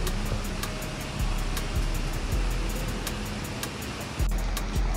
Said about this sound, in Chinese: 已经能听到瀑布的水声了